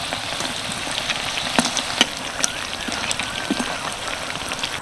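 Bangladeshi nakshi pitha, patterned rice-flour cakes, bubble in hot oil three at a time, giving a dense rain-like sizzle with occasional sharp pops and spatters, near and steady throughout with no voice.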